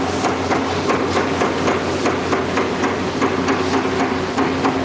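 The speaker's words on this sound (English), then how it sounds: "use this machine to punch holes" Loud, steady industrial machine rumble with rapid repeated thumping strikes as a machine punches holes in boards, continuous and close with no talking.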